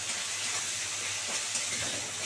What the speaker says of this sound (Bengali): এবার এটাকে ভালো করে মশলাটাকে কষাবো